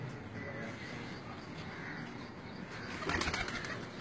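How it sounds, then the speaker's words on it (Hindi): Pigeons on a rooftop during a pigeon-stamping session, with faint bird calls and cooing mixed into steady outdoor noise, briefly louder near the end while people talk nearby. "अजी डरने तो नहीं लगे कबूतर?"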